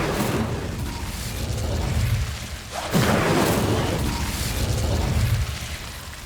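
Incendio fire spell cast in Hogwarts Legacy, a sudden loud whooshing burst of flame that erupts midway and roars on briefly over steady background game sound.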